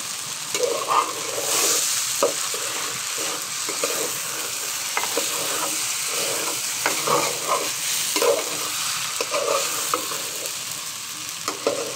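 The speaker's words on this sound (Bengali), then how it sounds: "এখন চালটাকে খুব সুন্দর মতো মশলার মধ্যে ভেজে নিতে হবে" Rice frying in spice masala in a pan, a steady close sizzle with irregular scraping stirs throughout, no voices.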